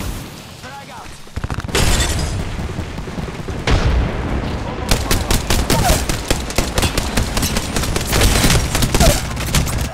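Gunfire and a frag grenade blast in the video game Apex Legends: a loud burst, then dense rapid automatic fire and heavy thumps that continue loud and busy, with a player talking over the top.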